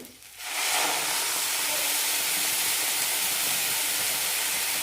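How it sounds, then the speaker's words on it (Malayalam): Coconut milk hits a hot pan of fried rice for ghee rice and erupts into a loud, sustained steamy hiss that holds steady after a brief quieter moment. "ആദ്യം തേങ്ങാപ്പാൽ ഒഴിക്കാം"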